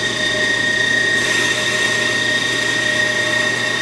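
Steady whine of a brake lathe running, its cutting head scraping a brake rotor, with a continuous tonal hum that brightens partway through as the cut engages.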